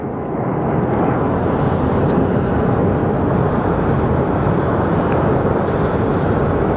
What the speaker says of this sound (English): another push out of the Southwest, as he's about to power up and do its leisurely roll